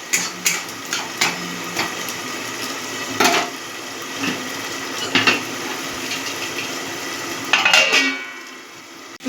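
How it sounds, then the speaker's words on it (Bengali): Katla fish fat frying in a pan, a steady sizzle broken by repeated clinks and scrapes of a utensil stirring against the metal, close and fairly loud throughout. "এদিকে দেখুন মাছের তেলটা আমি ভেজে নিচ্ছি।"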